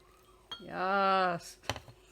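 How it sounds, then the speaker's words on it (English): Tea pours left-handed from a teapot into a cup in a brief stream whose pitch rises as it fills, framed by soft clinks of china before and after. "Left-handed pouring."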